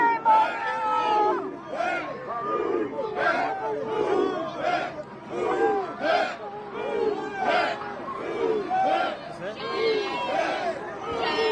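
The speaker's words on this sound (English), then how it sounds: "we're showing you here the crowd out behind the line of protesters that are up against the police" A crowd of protesters pressed up against a police line, a loud, dense babble of shouting and chanting voices rising and falling in waves throughout.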